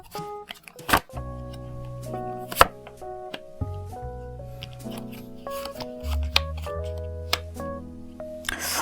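Tarot cards are drawn and shuffled with soft slaps, flicks and sliding snaps, under gentle background music with sustained tones.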